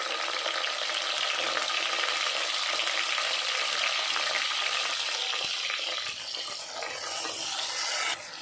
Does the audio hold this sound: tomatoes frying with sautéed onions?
yes